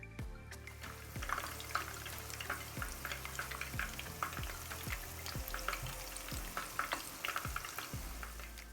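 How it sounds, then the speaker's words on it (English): Oil sizzles and crackles steadily in a pan while frying chicken cordon bleu, a soft continuous frying hiss with scattered pops and occasional low clinks. "we're going to fry it on each side for 10 minutes"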